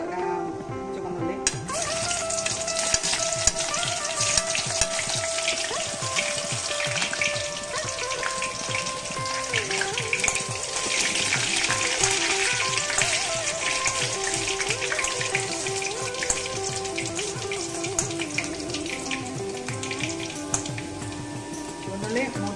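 Shallots frying in hot oil with mustard seeds and fenugreek in a pan for mango and lemon pickle, a loud continuous crackling sizzle close up, with light stirring and a voice talking over it.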